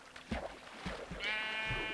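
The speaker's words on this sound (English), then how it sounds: "Oh, the sheep are coming out to greet me." Sheep in the video game Minecraft bleat several times in short, close calls, the last one a longer drawn-out bleat, with no talking over them.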